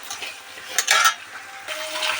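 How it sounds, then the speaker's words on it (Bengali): Moong dal is stirred and dry-fried in a pan, producing soft scraping and rustling with a louder burst of stirring in the middle, close and without talk. "এদিকে আমাদের মুগ ডাল ভাজাটাও চলছে"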